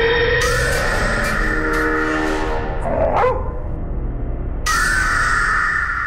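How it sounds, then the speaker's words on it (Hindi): A dog barks again and again in a tense indoor scene, with sharp, loud barks in an irregular rhythm against background sound effects and music, and no speech over it. "क्या हुआ इसे, क्यों भौंक रहा है इतना?"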